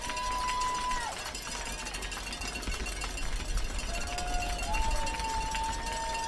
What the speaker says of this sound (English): More noise from the Franklin crowd